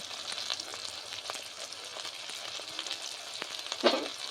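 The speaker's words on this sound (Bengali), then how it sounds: "টমেটোটাকেও ভালোভাবে ভেজে নেব।" Spices, onion and tomato sizzling and frying in a hot pan for bhindi-aloo curry, a continuous crackling hiss with occasional stirring scrapes and a louder clatter near the end.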